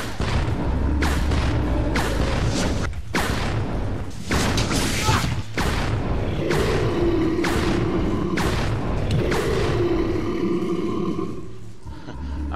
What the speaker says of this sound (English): I'm going to test a grenade launcher on the Proto-Tyrant as well.